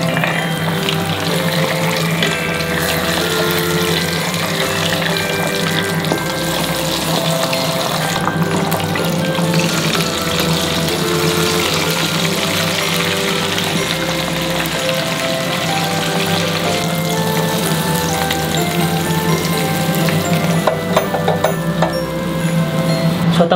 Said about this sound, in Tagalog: Deep fry yung isda natin.